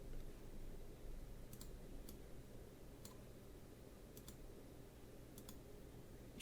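A computer mouse clicked while designing a coloring book page on a computer: faint, sparse clicks, several in quick double pairs, over a low room hum with no speech.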